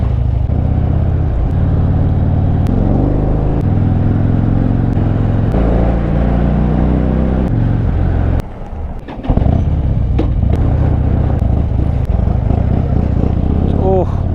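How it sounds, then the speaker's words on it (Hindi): A 2013 Harley Davidson Dyna's engine is revved with the throttle pumped on a mountain road, giving a loud, close, continuous rumble that rises and falls, with a brief dip in the middle. "मैं थ्रॉटल को और पुल किए जा रहा हूँ, पंप कर रहा हूँ ना व्हीकल को टू बर्न मोर फ्यूल"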